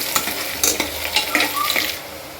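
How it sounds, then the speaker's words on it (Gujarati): Potatoes and onions sizzle in a pan while being stirred, with scraping and clinks of a utensil over a steady frying hiss. "હવે આપણે બટેટા નાખી દઈશું। સારી રીતે પકવી લઈશું।"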